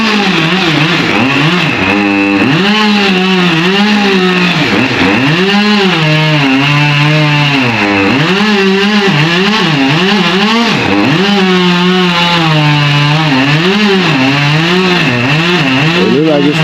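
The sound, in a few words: chainsaw cutting a tree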